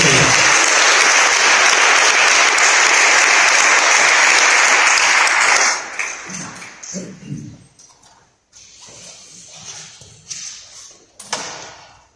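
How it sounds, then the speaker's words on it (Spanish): Loud, sustained applause from a large church congregation during a sermon for several seconds, then it cuts off, leaving scattered thumps and faint sounds. "Fuerte el aplauso a Dios"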